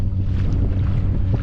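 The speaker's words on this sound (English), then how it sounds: "Yeah, you can hear that gust." A strong gust of wind on open water buffets a kayak fitted with a Bixpy jet motor, giving a loud, continuous low rumble of wind noise that carries through the whole moment with no voices.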